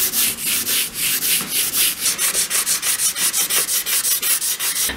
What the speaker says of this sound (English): So when I'm doing this part with the scouring pad, you can use really super fine grit sandpaper too.